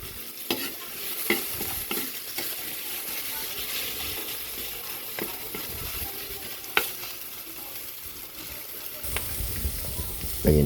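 Oil sizzles steadily in a pan while garlic and onion are stirred, with occasional scraping clicks of a utensil against the metal, no talking.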